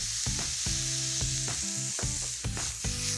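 Beef, garlic and ginger stir-frying in a pan with black beans, a constant bright sizzle broken by rhythmic scraping and tossing knocks.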